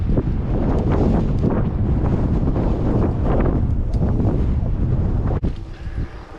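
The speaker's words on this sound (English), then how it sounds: "Now it's mainly crosswind." Crosswind gusts roar across the microphone while riding the Grava Del Fuego gravel route among open fields and mesquite, a loud, steady rumbling buffet that eases briefly near the end.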